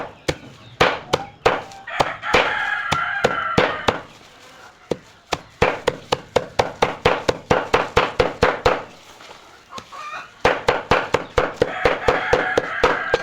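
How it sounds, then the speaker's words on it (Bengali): Grass is chopped into half-inch pieces as chicken feed, with sharp, rapid, evenly spaced blade strikes that come close and loud in steady runs, broken by two short pauses. "1/2 ইঞ্চি বরাবর 1/2 ইঞ্চি নিয়ে ঘাসটা কাটবে"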